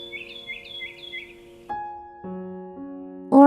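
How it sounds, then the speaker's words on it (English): A small bird chirps outdoors, giving four quick, bright, evenly spaced tweets. Sustained musical tones then take over and grow louder toward the end. "A bird singing a happy song just for you."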